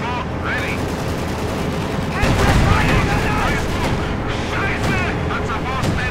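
Company of Heroes 2 battle with an IS-2 tank and its 122mm gun among other fire, dense rumbling gunfire and booms throughout with a heavy burst midway, under a talking voice.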